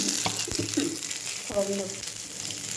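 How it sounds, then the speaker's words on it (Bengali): Fish rubbed with salt and turmeric sizzles in hot oil in a pan, a steady close crackle with a few brief clinks and faint voice-like sounds mixed in. "মাছটা ভাজা হচ্ছে"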